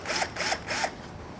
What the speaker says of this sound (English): we're going to go ahead and just drill out the top 2 on this side and the top 2 on